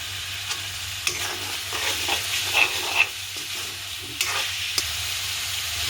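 Prawn curry sizzles in a pan while a spoon stirs it, an even frying hiss punctuated by several sharp scraping clicks and taps, close and moderately loud, with no one talking.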